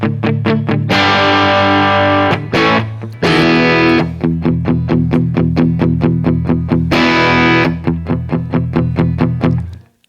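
Electric guitar with fresh strings through a Walrus Audio Julia chorus pedal, loud and driven, with sustained strummed chords alternating with fast repeated picked notes in a steady rhythm, no talking.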